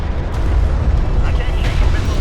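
A strike fighter blown apart under hostile fire in the real-time strategy game Homeworld: Deserts of Kharak, a loud, dense rumbling blast that sustains as a continuous roar throughout, with a voice talking over it.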